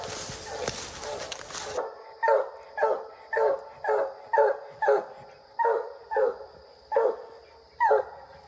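Coonhounds on a track bark in a steady series of about ten loud, separate baying barks spaced roughly half a second apart, following a brief stretch of noisy handling sounds at the start.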